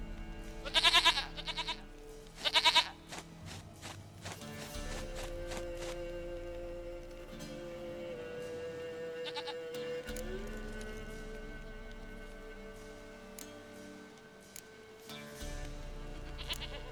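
Loud, close goat bleats in The Witcher 3: Wild Hunt, two quavering calls in the first few seconds, then a quieter stretch of game ambience and music.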